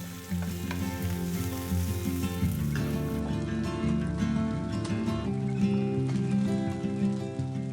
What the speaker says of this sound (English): 2 tablespoons chili oil, tofu, red onions, saute for a couple of minutes.